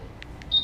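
Two short, high electronic chirps followed by a longer sustained beep from a 2019 Honda Click 150i smart key remote, close and clear against a quiet background.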